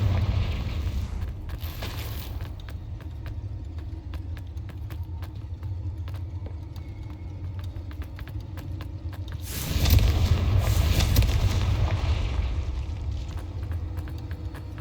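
A Confringo fire spell in the Hogwarts Legacy video game goes off as a loud, rumbling explosive burst roughly two-thirds of the way through, rising above a steady low game ambience, with a fainter blast near the start.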